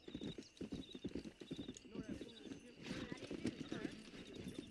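Rapid, rhythmic horse hooves clip-clopping at a gallop during a race in the video game Red Dead Redemption, with a whinny partway through and a voice talking over it.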